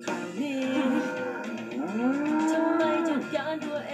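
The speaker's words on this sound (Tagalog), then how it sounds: "Dito ko natitira kasama ng mga kalabaw." A carabao (water buffalo) moos loudly and close, one shorter low call followed by a longer drawn-out one, with no one speaking.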